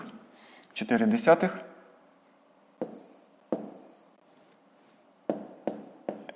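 Numbers being handwritten during a fifth-grade maths subtraction exercise, heard as short scratchy pen strokes in separate bursts after a brief stretch of speech, fairly quiet and close.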